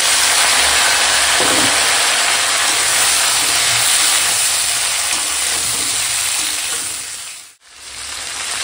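Chopped papaya, green plantain and ridge gourd frying in a pan with onion and green chilli, giving a loud, continuous sizzle and hiss that holds steady and briefly dips near the end.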